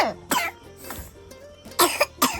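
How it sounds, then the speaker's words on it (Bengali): A child coughing close by, a few short harsh coughs in separate bursts with brief pauses between them. "কাশি হয়েছে"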